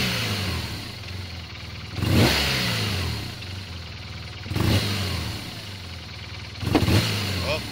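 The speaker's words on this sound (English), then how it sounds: "full throttle, just revving it up, you'll hear her stumble." A BMW R1200RT motorcycle engine with a fault idles roughly, then revs hard three times, each rise sputtering, stumbling and backfiring before dropping back to a lumpy idle.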